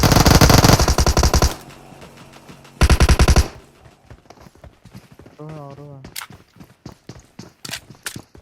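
Loud bursts of automatic weapon fire in a mobile battle royale shooter game, two heavy rapid volleys followed by quieter footsteps and scattered single shots.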